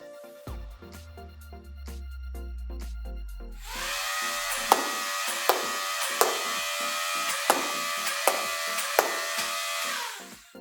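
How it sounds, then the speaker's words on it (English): BOHAN 357 Nerf revolver fired with the button rev: a flywheel motor spins up with a whirring whine, then sharp foam dart shots crack out at an even pace, about eight in a row, close and loud. "First, we are going to use the button rev."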